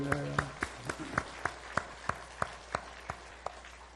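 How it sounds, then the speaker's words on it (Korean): A Korean church congregation at a Sunday morning service claps in a slow, even beat to glorify God, about a dozen sharp, evenly spaced claps sounding faint and somewhat distant, with a brief voice at the start. "하나님께 영광의 박수."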